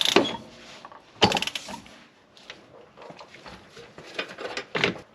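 Bolts are tightened on an SUV wheel with a ratcheting hand tool, giving close metallic clicks and clunks in short irregular bursts with pauses between them.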